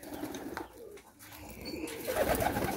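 A large flock of stock breeder birds kept for breeding calls together in a steady, busy chorus of cooing, with no talking.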